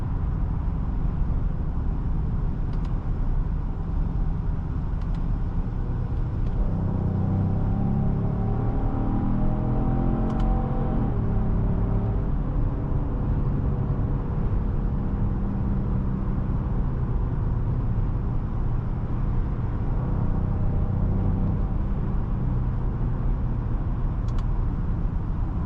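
A Genesis GV70 SUV accelerates under throttle from inside the cabin, with a continuous low, growly engine drone that holds steady throughout, plus road noise and a few faint clicks.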